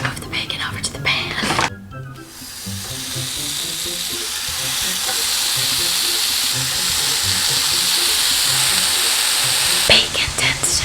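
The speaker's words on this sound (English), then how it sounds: "Let's move the bacon over to the pan." Turkey bacon hisses and crackles in a frying pan, a steady close sizzle that swells and holds, with soft whispered talk and handling noises at the start and end.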